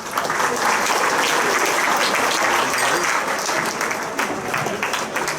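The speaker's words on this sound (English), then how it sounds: "Let's have a nice round of applause for Dan McGinley." Audience applause fills a hall of fame ceremony at Memorial Hall, a dense, steady clapping from a large crowd that stays loud throughout with only slight swells.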